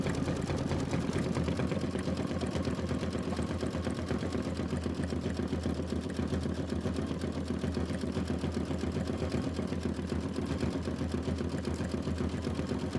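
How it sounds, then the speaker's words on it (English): Kimberbell embroidery machine stitching a tiling scene block, a steady, rapid mechanical whir with dense needle ticking, continuous and close with no talking. "3 minutes of stitching."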